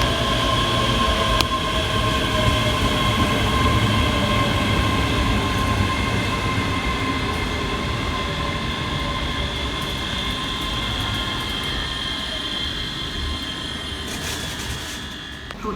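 Two coupled Class 385 electric trains, units 385121 and 385117, run through Edinburgh Haymarket with a steady rolling rumble and a sustained high electric whine, close and continuous, fading slightly near the end.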